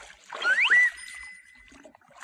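A short water splash and swoosh sound effect for a crocodile in a children's story, a quick watery burst with a trailing trickle, fairly faint against near silence.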